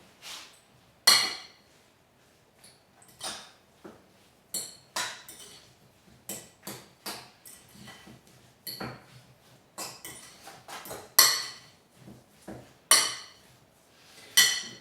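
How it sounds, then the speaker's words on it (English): A utensil mixes crumbled feta into a sweet potato filling in a bowl, giving irregular scraping clinks and taps against the bowl at close range, with quiet gaps between strokes. "And then I'm just going to mix that till it's combined."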